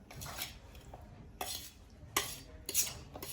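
A spoon mixes gundar pak mixture in a pot or bowl, making a few sharp metallic clinks and scrapes spaced about a second apart, near but quiet, with no speech.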